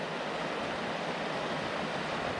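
Seawater washes against a small island off the Welsh coast near Newquay, a steady broadband rush of surf with no clear breaks, fairly faint and continuous with a little wind noise mixed in.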